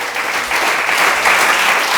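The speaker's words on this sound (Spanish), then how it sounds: "Dale un aplauso a Dios." A church congregation applauds at a Spanish-language service, a loud, sustained burst of clapping from many hands lasting the whole moment, with no talk over it.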